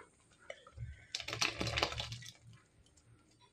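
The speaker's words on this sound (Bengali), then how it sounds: "এবার এর মধ্যে আমি দই ফেটিয়ে রেখেছিলাম, সেটা ঢেলে দেবো" Whisked yogurt is poured into a pan of fried doi bora (lentil dumplings), making a soft, wet, crackly burst in the middle of a quiet kitchen moment.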